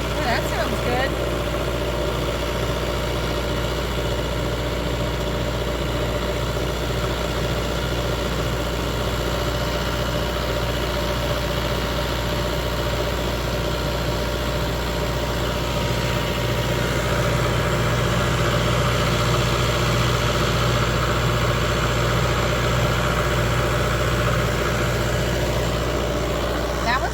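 Inboard engine idles steadily aboard a 70-foot Hatteras yacht, a constant low rumble with vibration that holds unchanged throughout, heard close up with no pauses.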